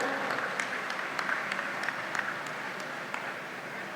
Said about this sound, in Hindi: तो मैं चाहूंगा हम हरमनप्रीत की जोरदार तालियों से,